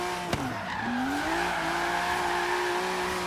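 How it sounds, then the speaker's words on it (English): A sports car drifting in fourth gear, its tires squealing in a loud sustained howl over a steady engine drone, with a brief sharp click near the start. "Might not be the longest drifts ever, but I'm still surprised that I can actually do this without it wanting me to spin."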